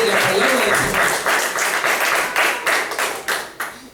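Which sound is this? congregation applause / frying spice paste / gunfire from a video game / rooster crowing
congregation applause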